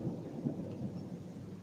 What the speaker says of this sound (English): there's thunders outside and wind and rain and everything